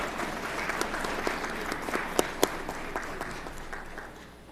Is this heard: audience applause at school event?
yes